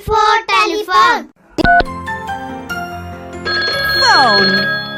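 A telephone ring sounds after a child's sung phrase, its tones ringing out steadily, followed by a sweeping electronic melody.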